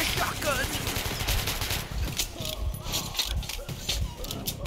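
Shotgun blasts ring out in a firefight in Metro Last Light, with repeated gunshots and scattered fire over game background noise while a player talks over the shooting.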